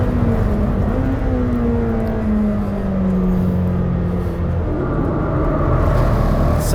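Lamborghini Temerario under braking, its engine note falling in a loud, smooth downward sweep over heavy road and wind rumble inside the car, the drone easing steadily across the clip.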